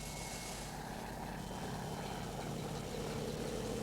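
A military helicopter climbs to 4,000 feet carrying a wounded colonel during the Vietnam War, its engine and rotor making a steady, unbroken drone throughout, with no speech.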